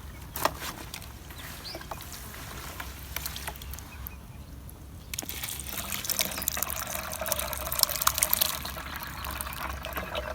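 Organic caterpillar spray mixture poured and splashing into a container for treating apple trees, a steady liquid gush that swells louder in the second half, with no talking.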